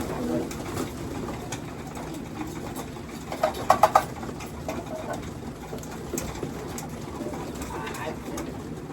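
Soft racing pigeon coos come in a short cluster partway through, over steady mechanical hum and a noisy background, at a one-loft pigeon race.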